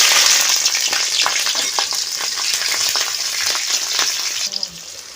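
Whole dried red chillies and green chillies frying in hot oil for a mixed vegetable dish, giving a loud, continuous close-up sizzle with crackling spits and pops throughout, no talking.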